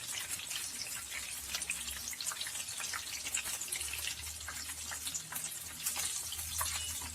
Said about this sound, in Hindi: देखिए ये अच्छे से फ्राई हो रहे हैं।